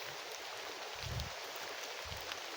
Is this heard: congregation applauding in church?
no